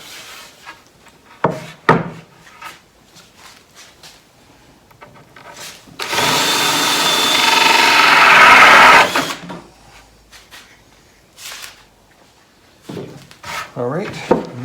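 A power saw cuts a hole through wood for a console cabinet, a loud steady buzzing burst lasting about three seconds, with quieter workshop knocks and handling sounds before and after.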